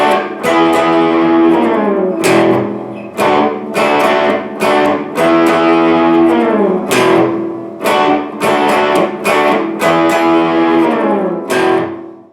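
Distorted electric guitar plays the riff that leads into the solo, a loud, dense run of repeated chord stabs with short pauses between phrases, heard alone.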